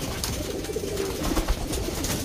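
Pigeons coo softly in a cage holding over a hundred birds, a low, steady murmur of calls filling the space with a few louder swells.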